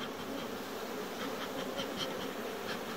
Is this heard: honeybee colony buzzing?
yes